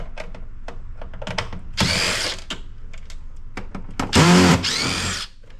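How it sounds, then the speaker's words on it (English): Screws are being backed out of an electric cash register with a power driver: short whirring bursts stand out over a run of small clicks and rattles of metal parts, close and fairly loud. "now we'll unscrew some screws and see what that does for us"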